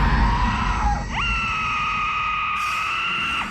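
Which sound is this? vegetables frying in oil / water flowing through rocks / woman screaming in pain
woman screaming in pain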